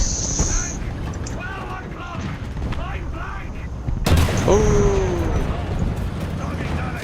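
Tank gunfire in the video game War Thunder: one heavy cannon blast about midway rises over a steady rumbling engine bed, with voices talking underneath.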